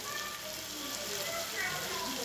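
Food sizzles and crackles in a pan over a fire, a steady dense hiss with scattered pops, close and continuous.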